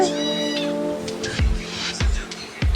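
A cat meows several times close by, short separate calls spaced a second or so apart after a brief tonal sound at the start.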